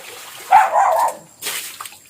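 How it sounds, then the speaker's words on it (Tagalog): Water runs and splashes in two short bursts at home, close and fairly loud, with a break of quiet between them. "Tubig."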